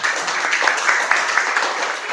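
Students in a classroom give a short burst of clapping, a fairly loud, even patter of many hands that fades slightly at the end.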